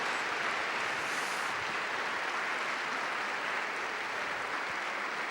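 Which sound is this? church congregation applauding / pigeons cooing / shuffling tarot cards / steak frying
church congregation applauding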